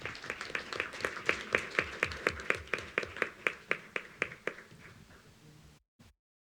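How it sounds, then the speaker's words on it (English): An audience at a school board meeting claps for the Titans, with a steady round of rhythmic applause from a modest crowd that thins out and stops abruptly. "let's give the Titans another round of applause"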